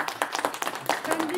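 A small group at an informal discussion gives a brief burst of scattered clapping, mixed with overlapping voices.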